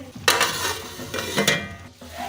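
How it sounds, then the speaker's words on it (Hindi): Chicken masala for biryani is stirred in a pot on a medium-low flame, with two or three quiet, close scraping strokes over a faint sizzle. "अभी हम इसको मिक्स करके इसको ऊपर से ढक देंगे बिल्कुल मीडियम टू लो फ्लेम पे"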